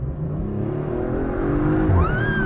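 A 2020 Audi RS5 accelerates from inside the cabin, its engine note climbing steadily and loud with a rising whine and low rumble, no voices over it.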